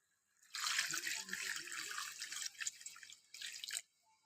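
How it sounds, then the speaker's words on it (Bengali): Water poured into a pan of browned, cooked meat gives a close splashing gush lasting about three seconds, pausing briefly, then a shorter second pour. "একটু জল দিয়ে দেবো এখন।"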